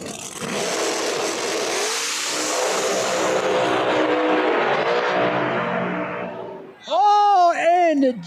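Drag race cars at a Street Outlaws No Prep Kings event in Epping, NH, roar loud and steady for several seconds, then fade out before an announcer's voice comes in over the noise.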